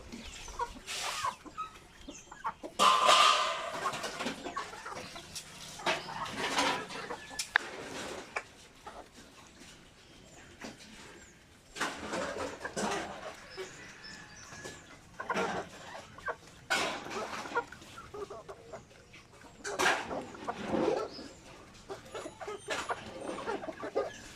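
Chickens and roosters cluck and squawk in scattered bursts, some near and some farther off, over a quiet outdoor background.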